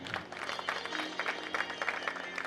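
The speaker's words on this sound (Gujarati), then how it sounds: "આપણે પહેલા તાળીના હાથથી વધાવીએ" An audience at a Shrimad Bhagavat katha gathering claps together to welcome the host family, a brief burst of scattered applause at moderate distance with no talk over it.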